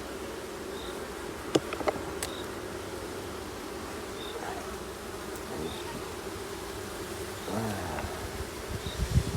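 Honey bees buzz around an open hive, a steady soft hum with a few louder individual passes close by, under quiet handling noises and no clear talk.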